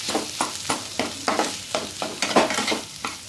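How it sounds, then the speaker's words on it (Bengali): Dough with mashed potato and flour being stirred and mixed by hand in a bowl, a brisk rhythmic series of soft scraping, squelching strokes, close and clear with no talking. "আলুটা এর সঙ্গে ভালো করে একটু সময় নিয়ে একটু ভালো করে মিশিয়ে নেব"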